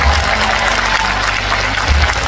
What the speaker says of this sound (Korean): 그렇다면 박수 한번 보내주시죠